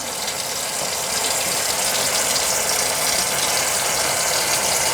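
Tap water runs steadily from a kitchen faucet and down the sink drain, a constant broad rushing hiss with no pauses, close and fairly loud.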